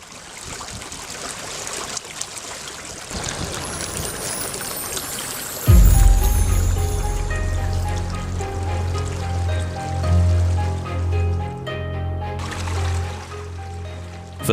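Abundant water in the Falaj al-Mayaza, an Omani falaj irrigation channel, rushing and pouring steadily, growing to a loud, full, continuous gush after a quieter trickling start.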